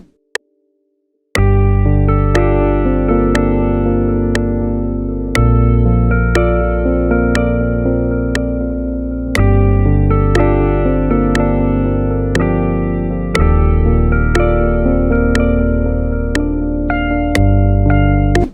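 Sustained electric piano chords through a tape echo ring out with repeating echoes, each chord change followed by rhythmic delayed taps that decay and overlap, loud and alone.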